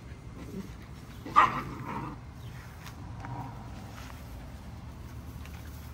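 A Rottweiler at a kennel gives a single short, fairly loud bark near the start, then only low background noise follows.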